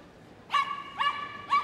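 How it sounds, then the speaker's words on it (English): A small dog barks during an agility run at Crufts 2012, three sharp, loud barks spaced about half a second apart, close by and clear, with no speech over them. "Another one that likes to bark while she's doing her agility."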